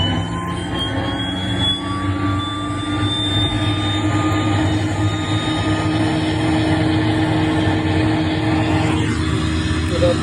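A De Havilland DHC-6 Twin Otter's left engine starts up in Microsoft Flight Simulator: a loud, continuous mechanical roar with a rising whine that holds steady throughout.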